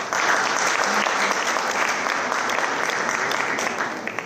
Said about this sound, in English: A one big round of applause